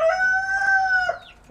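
Domestic rooster crowing loudly and close in one sustained call that falls away at the end, alone without speech.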